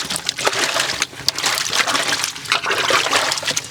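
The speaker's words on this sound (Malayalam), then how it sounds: "ഇനി നല്ലോണം കഴുകി വാങ്ങിയെടുക്കട്ടെ നമ്മുടെ തക്കാളിനെ." Tomatoes are washed in water, batch prep for tomato sauce, with irregular splashing and sloshing in fluctuating bursts close by, and no speech.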